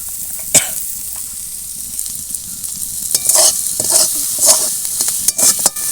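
Cauliflower frying in mustard oil with spices, stirred in the pan: loud sizzling with repeated scraping strokes of the spoon and bursts of spitting oil, close by.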